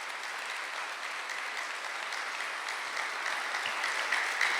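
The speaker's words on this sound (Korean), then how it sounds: "박수 치세요" A church congregation applauding during a Sunday worship service, a continuous even patter of many hands clapping heard from across the room, moderately loud and steady without voices.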